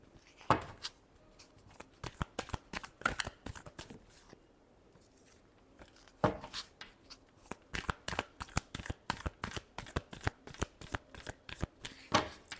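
A deck of tarot cards is shuffled by hand in a quiet room, repeated crisp riffling bursts in quick rhythmic runs, pausing briefly midway before resuming, close and fairly soft.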